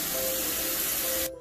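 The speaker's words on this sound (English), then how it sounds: "I'll rinse them out" Steady hiss of running water rinsing cut yams, close and continuous, stopping abruptly at the end with no talk.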